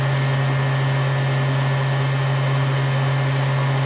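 Haas VF-2 CNC mill, built 2013, with its spindle running at 8100 rpm: a steady, high-pitched electric whine over a constant hum, close and unchanging throughout, with no talking.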